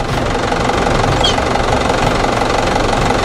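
Farm tractor engine running on the way to fields around a village in Jamui, Bihar: a loud, steady mechanical rumble with a knocking chug that continues throughout without speech.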